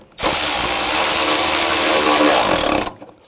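A power driver runs a screw into the coolant reservoir of a 2004-2008 Ford F-150, one steady, loud whirring burst of about two and a half seconds that cuts off abruptly.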